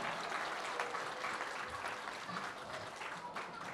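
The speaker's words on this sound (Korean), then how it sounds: "그러면 다시 한번 큰 박수 부탁드립니다" Congregation clapping at a church Sunday school summer ministry thanksgiving service, a fairly quiet, continuous round of applause from a room full of people, a little uneven in places.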